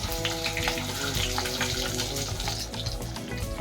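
A veg burger tikki patty sizzles in a pan of oil, a steady hissing, crackling fry that stays loud and even throughout with no voices.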